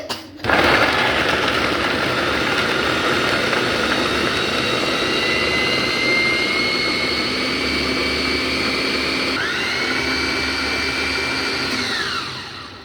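An electric kibbeh grinder runs continuously while blending a kofta meat mixture, a loud steady high-pitched motor whine that changes pitch near the end before spinning down.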